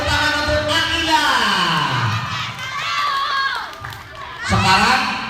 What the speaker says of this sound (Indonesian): tepuk tangan untuk Agila.